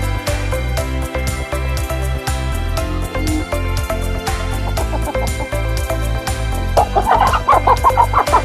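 Laying hens close to egg-laying cluck repeatedly on a poultry farm, a steady chorus of clucks and calls that grows busier and louder toward the end.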